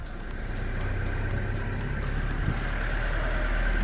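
A car engine runs after a push-button start, a low, steady rumble that grows slightly louder over a few seconds, with no talking.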